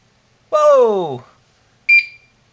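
A Furuno FCV-585 fish finder sonar depth sounder, just repaired, gives a loud downward-sweeping tone at power-on and then a short, higher beep a moment later, with quiet around them.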